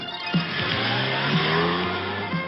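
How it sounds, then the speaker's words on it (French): A Peugeot 205 drives in a TV advert. Steady, loud car engine noise runs throughout, with brief tyre squeal or skid-like accents and swooping pitch changes as the car moves. "C'est la nouvelle Peugeot 205. Nerveuse en ville comme sur route."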